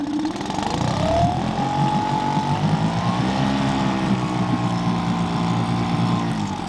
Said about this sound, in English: I'll put some revs into it.